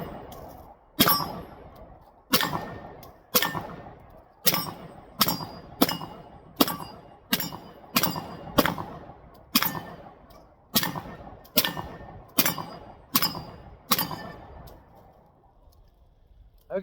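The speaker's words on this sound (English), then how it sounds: "17 rounds out of the SIG 365 TacOps." Seventeen pistol shots from a SIG 365 X Macro TacOps ring out in a steady, slightly uneven rhythm at an outdoor range, each sharp crack trailing a short echo, loud and close with no talking.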